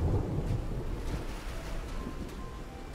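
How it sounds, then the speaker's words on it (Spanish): Stormy ambience in the video game Call of the Sea: a steady low rumble of thunder and wind-like wash runs throughout, with no distinct crack, fairly loud and continuous. "Eso es la tormenta."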